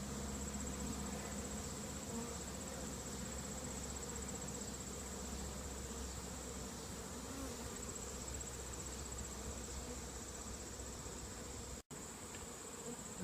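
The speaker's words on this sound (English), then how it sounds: "But this is what robbing looks like. A frenzy of bees trying to get in." Honey bees robbing a hive, a frenzy of insects crowding the entrance fitted with a robbing screen, make a dense, steady buzzing drone that fills the whole stretch close by, broken only by a brief gap near the end.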